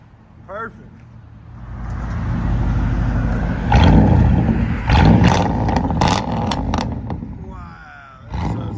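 A deep, throaty 5.7L V8 exhaust on a Chevy Tahoe revs in loud bursts, rumbling between throttle blips, with a voice briefly heard at the start.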